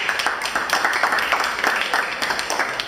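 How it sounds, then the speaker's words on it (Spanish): Classroom applause for teaching assistants during a university chemistry class, a lively burst of many hands clapping close and fairly loud, with scattered sharper claps standing out, no speech over it. "Un aplauso para todos los ayudantes"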